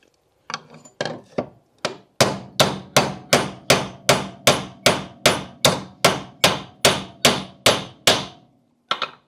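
A hammer flattens a deformed rivet on a Jaguar XK8/XKR shock mount with sharp metallic blows. A few uneven taps come first, then a steady run of about sixteen loud, evenly spaced strikes close by, and one final blow after a pause.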